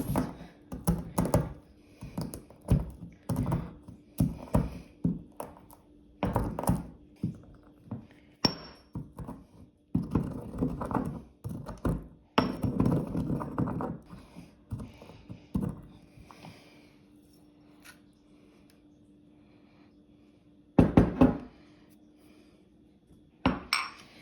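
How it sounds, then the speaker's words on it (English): Whole cloves are crushed in a mortar and pestle, giving a series of sharp, close, hard clinks and grinding taps in irregular bursts, with a few quieter stretches between them. "I have 4 cloves, and I'm just gonna use my mortar and pestle"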